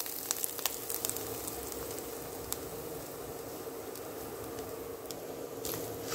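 Rava semolina roasting with grated coconut in a pan for rava laddu, a soft steady sizzle with faint crackles and occasional ticks of stirring, quiet and unbroken.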